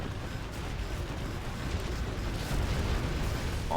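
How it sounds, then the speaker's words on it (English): Cannon fire in a C&C Zero Hour match rumbles as a dense, continuous barrage of low booms and bursts, loud and unbroken, with no talk over it. "those infernal cannons just dealing damage there"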